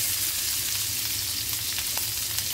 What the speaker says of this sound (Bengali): রসুনটা থেকে হালকা গন্ধ বেরোলেই অ্যাড করে দেবো পেঁয়াজ।